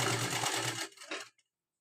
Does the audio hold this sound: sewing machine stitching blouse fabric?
yes